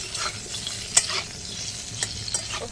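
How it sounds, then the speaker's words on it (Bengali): Brinjal pieces with a little salt fry in oil over a wood-fired stove, with a soft steady sizzle and a few sharp clinks of a utensil stirring the pan. "একটু নুন দিয়ে ভেজে নিলাম বেগুনটা।"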